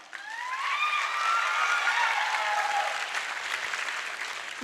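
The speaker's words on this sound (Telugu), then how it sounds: "మీ చప్పట్లు నాకు అంత ఉత్సాహాన్ని ఇచ్చాయంటే" An audience at a motivational talk applauds, a dense, steady wash of clapping that swells and holds for several seconds, with a few faint whistles or cheers carried above it.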